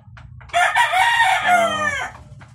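A five-month-old Red Kelso cross Gilmore Sweater stag rooster crows once, loud and close, a single long strained call trailing off at the end.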